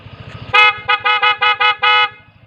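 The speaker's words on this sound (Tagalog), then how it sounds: "Yeah, loud horn." Over a low idling Yamaha Aerox scooter engine, a loud aftermarket horn sounds six quick honks in a steady rhythm, the first slightly longer.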